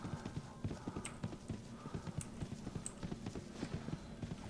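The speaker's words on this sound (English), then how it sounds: "Get on our horse." Horse hooves clip-clopping at a steady, rhythmic pace while riding in the video game RIFT, continuous and fairly close, with no talking over it.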